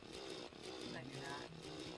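A chainsaw in the video game Terraria, a continuous buzzing, rasping motor whine at moderate level with slight pulsing, a voice talking over it.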